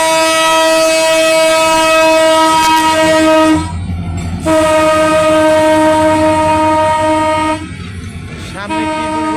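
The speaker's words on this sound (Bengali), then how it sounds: "এই মুহূর্তের সংবাদ টঙ্গী স্টেশন থেকে উল্টা পথে ট্রেনটি ঢুকছে" A Dhaka-bound train coming from Tongi station rolls loudly nearby on the wrong line, its horn blaring in long sustained blasts broken by two short gaps, wheels and carriages rumbling underneath.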